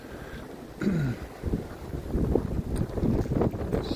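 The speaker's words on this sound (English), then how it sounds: "boy, is it windy and cold today" Strong, cold gusts buffet the microphone outdoors in a residential yard in Woodbridge, Virginia, a loud rumbling roar that rises and falls, with someone briefly speaking.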